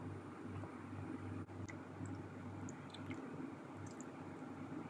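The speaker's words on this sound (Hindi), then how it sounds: "मसाले को हम अच्छी तरह से चिकन पर लगा लेंगे" Hands rub spice masala onto chicken leg pieces, giving soft, close, wet squishing sounds that continue steadily under a low background hum.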